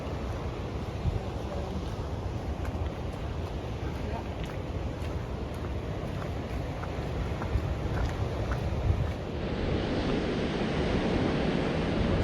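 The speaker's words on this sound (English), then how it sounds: "This is quite a nice little beach. Yep. A bit rocky, eh?" Ocean surf washes onto a rocky beach along the Hermanus cliff path, a continuous rumbling wash with wind buffeting the microphone, steady and fairly close throughout.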